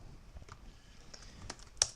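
Sparse, light key clicks from a new computer keyboard being typed on, a few scattered taps and one sharper click near the end, fairly quiet with no talking.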